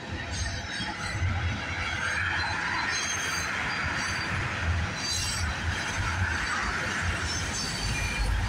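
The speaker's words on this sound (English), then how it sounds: "This has got to be one long train here." A long freight train rolls steadily past at close range, a continuous loud rumble of wheels on rail with metallic squeals and clanking from the cars, with no voices over it.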